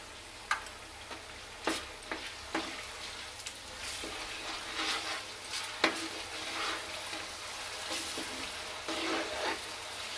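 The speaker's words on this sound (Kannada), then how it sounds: "ಇದಕ್ಕೆ ಇವಾಗ ಸ್ವಲ್ಪ ಶುಂಠಿ ಬೆಳ್ಳುಳ್ಳಿ ಪೇಸ್ಟ್ ಹಾಕ್ತಾ ಇದ್ದೀನಿ. ಅದೇ ಎಣ್ಣೆಲಿ ಸ್ವಲ್ಪ ಫ್ರೈ ಆದರೆ" Ginger garlic paste fries in oil in a pot while a spoon scrapes and stirs it, producing a soft sizzle with intermittent clinks and scrapes, fairly quiet and close.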